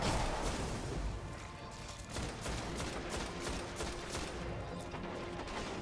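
Dense gunfire crackles continuously in the video game Destiny during a firefight, loud and busy with rapid overlapping shots and impacts.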